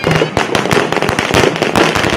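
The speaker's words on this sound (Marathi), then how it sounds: "फटाक्यांची आतषबाजी" Firecrackers burst in rapid, loud, irregular cracks during a decorated bull procession in Gadhinglaj, Kolhapur, the blasts tightly packed over a noisy outdoor crowd.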